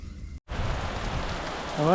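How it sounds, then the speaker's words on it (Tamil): Heavy rain pours outside in a steady, dense hiss that fills the whole clip after a brief gap, with a voice starting at the end. "செம்ம மழை அடிக்குது பாருங்க எழுத்து வாங்குது மழை"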